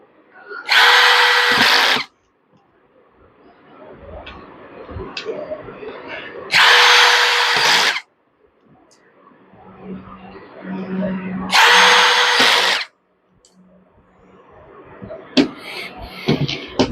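Repaired Dongcheng 13 mm brushless drill switched on three times, each a loud high whirring burst of about a second and a half, with quieter handling clatter and talking in between.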